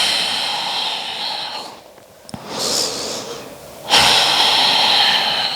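Deep breaths drawn in and let out during a power yoga flow, close and audible with airy, hissing inhales and exhales rising and falling in slow waves, with no talking.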